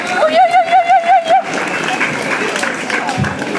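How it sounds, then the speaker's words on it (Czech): A crowd at a friends' gathering in Starovice, South Moravia, bursts into big applause after a brief warbling tonal sound, the clapping dense and close with voices mixed in. "velký potlesk"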